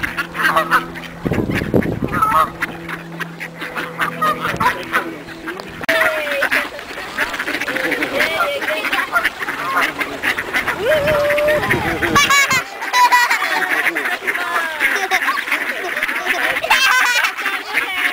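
Ducks and geese at the George C. Reifel Migratory Bird Sanctuary in Canada quack and honk repeatedly, close and loud, throughout. People talk over the birds for most of the time.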